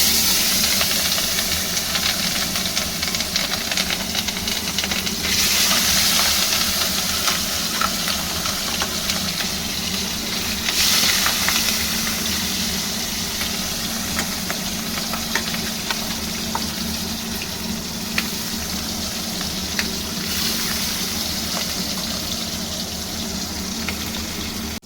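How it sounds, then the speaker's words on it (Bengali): Bata fish frying in smoking-hot oil, a loud, continuous close sizzle with scattered pops and crackles lasting throughout, no talking. "এবার আমি মাছগুলো একটা একটা করে ছেড়ে মাছগুলো ভাজবো"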